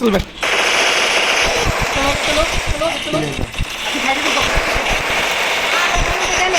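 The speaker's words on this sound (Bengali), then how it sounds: "গুলি করছে" Rapid bursts of automatic gunfire from the video game Free Fire, loud and dense throughout, with excited player voices talking over the shooting.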